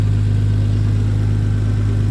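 A 1998 Nissan Skyline R34 25GT-T engine idles steadily while still warming up, a deep, smooth, even exhaust drone with a strong low hum that holds constant throughout, close and loud with no other sounds.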